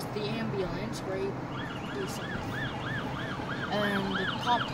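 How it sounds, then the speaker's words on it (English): An ambulance siren wails at a distance with a rising and falling yelp, outdoors at night at a Halloween pumpkin display, mixed with background crowd noise and faint talking. "Yeah, there's the ambulance, right?"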